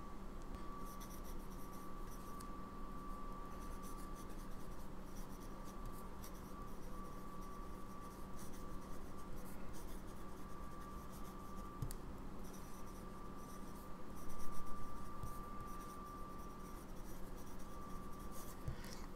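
Stub nib pocket fountain pen writing on paper, a faint, steady scratch and glide of the nib running continuously and close up, with one slightly louder stroke near the end and a constant low hum underneath.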